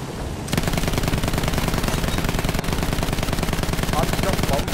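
Rapid, loud machine-gun fire from an aircraft in Battlefield 1 pours continuously into a zeppelin, a dense sustained burst that starts abruptly and runs to the end.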